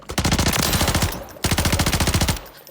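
Two sustained bursts of rapid automatic gunfire from a suppressor-fitted weapon in the shooter game Warzone, loud and close, each a steady stream of evenly spaced shots.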